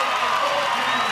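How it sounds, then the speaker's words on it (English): A crowd cheers at a beach volleyball semifinal between the USA and Brazil at the Québec Open, a brief, loud, dense roar of voices filling the air. "the crowd enjoying every minute of it"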